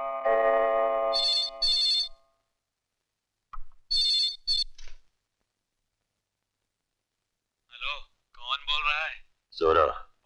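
A telephone rings in a Hindi action film scene, two short bursts of ringing separated by silence, followed later by someone talking.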